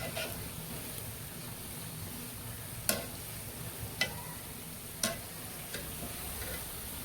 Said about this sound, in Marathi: आणि सारखं असं हळवत राहायचं तेलामध्ये, म्हणजे तो सगळीकडून ना भाजतं.